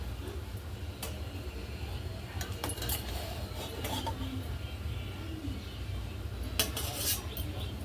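Egg biryani is served from a cooking pot, with light clinks and scrapes of a spoon against metal heard faintly over a steady background hum, and a brighter clatter near the end.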